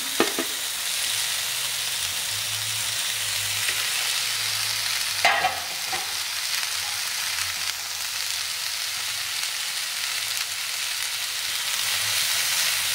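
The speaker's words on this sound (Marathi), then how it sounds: "आता याच्यात आपण टोमॅटो टाकून घेऊया." Tomatoes hit softened onions in hot oil for a restaurant-style chicken masala, a burst of sizzling at the start and again midway, then a steady loud hiss of frying, close and continuous with no talk.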